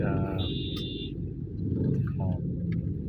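Road traffic rumbles steadily on a city street, low and continuous, with horn-like tones and brief beeps over it and people talking.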